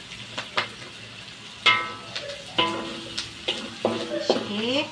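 Fish cake being stirred and fried in a pan, soft sizzling under repeated scraping and clinking of a spatula against the pan in irregular strokes, close and moderately loud.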